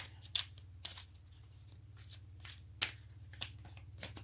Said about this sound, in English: let's get one more card